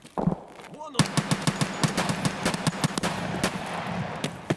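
A Kedr submachine gun firing in Escape From Tarkov, rapid sharp shots in a steady automatic stream of about two dozen rounds, close and loud, after a brief quiet moment with a short voice.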